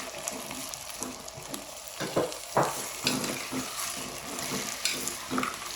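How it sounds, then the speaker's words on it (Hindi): Potatoes fry in a pot for a vegetable biryani, giving a soft, steady sizzle with scattered clinks and scrapes of stirring, close and fairly quiet, with no talking. "इनको थोड़ा फ्राई करेंगे 5 मिनट ना।"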